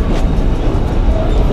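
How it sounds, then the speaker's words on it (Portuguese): A New York subway train at the 33rd Street station rumbles loudly and continuously, a close, heavy rolling roar with faint rail clatter. "33rd Street, consegui pegar o trem sozinho."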